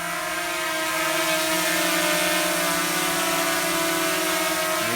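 A mini EX5 GPS folding drone with brushless motors hovers close by, its high steady whine of spinning propellers holding an even, loud pitch throughout with no other sounds.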